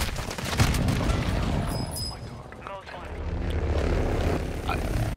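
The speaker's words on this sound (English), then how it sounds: "Dude, I got clipped by an airstrike." A video game airstrike with a propeller aircraft roaring overhead, a loud dense engine drone and rumbling booms, close and continuous, with voices talking over it.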